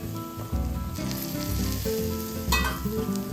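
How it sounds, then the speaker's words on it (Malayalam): Trivandrum-style papaya thoran fries and is stirred in a pan, making a steady bright sizzle with occasional scraping accents over background music. "ഒന്ന് ഇളക്കി കൊടുക്കണം."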